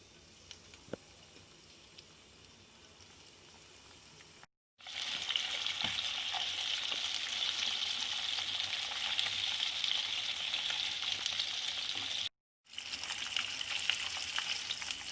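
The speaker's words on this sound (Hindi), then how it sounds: "अब मैं ड्रम स्टिक को डीप फ्राई करूँगी मीडियम आंच पर" Chicken drumsticks deep fry in hot oil over medium heat with a steady, bright sizzle and crackle. The sound breaks off briefly twice and then picks up again, with no talk.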